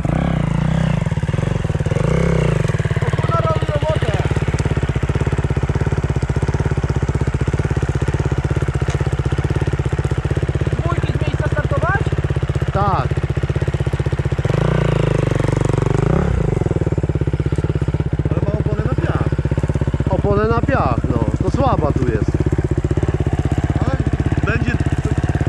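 KTM motorcycle engine running loudly and steadily close by, with the throttle blipped in a few surges of revving; people talk briefly over it.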